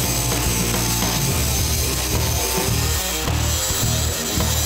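A power tool grinds steadily through welded sheet metal, cutting the outer body skin of a 1969 Dodge Charger free from the inner panel, a loud, continuous abrasive roar close by.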